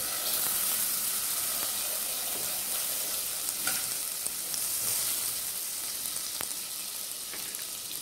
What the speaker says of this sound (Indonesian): Sekarang kita lelehkan dulu ya margarinnya, sorry butternya.